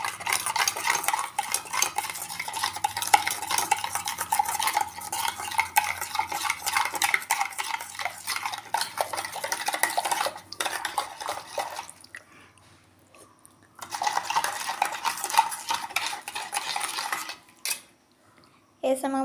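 Kulfi ingredients being stirred and mixed, a spoon clinking and scraping steadily against the container in a continuous busy rhythm, pausing briefly twice near the end.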